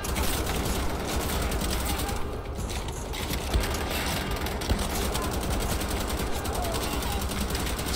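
Gunfire in the Wolfenstein video game, dense rapid automatic shooting running continuously as a loud, busy wash of game sound effects, with a voice talking over it.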